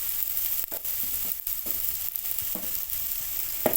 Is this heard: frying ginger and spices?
yes